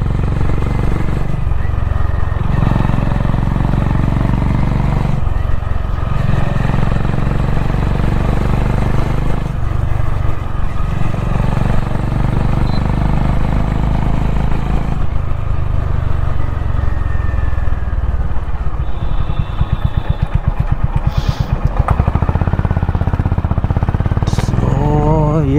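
A Honda CB 350 Highness motorcycle cruises on a highway in fourth gear, its engine giving a steady, loud, low drone with heavy wind rush. The pitch shifts slightly with throttle, and there is little talk.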